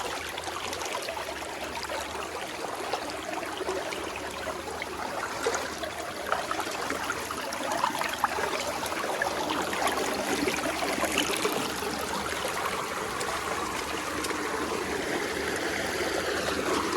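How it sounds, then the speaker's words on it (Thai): Small waterfall on a forest stream, a continuous rushing and splashing wash of water, steady and fairly close, with no voices. "นี่ก็เป็นน้ำตก"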